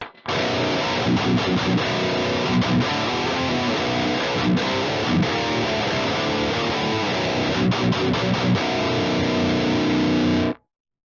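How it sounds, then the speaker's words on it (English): A heavily distorted electric guitar plays steady, dense riffs for about ten seconds, loud and saturated, then stops abruptly. "Okay, so here's my signal. And we're doing a distortion only"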